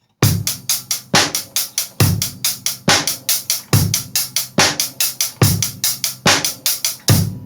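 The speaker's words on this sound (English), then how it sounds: "alternating 16th note hi-hat groove" A drum groove of fast, even hi-hat strokes with a bass drum and snare hitting in a steady repeating pattern, loud and close.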